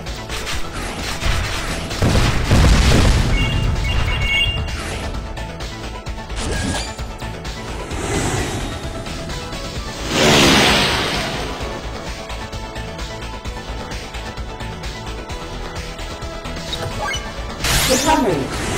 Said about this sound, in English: Explosion strike.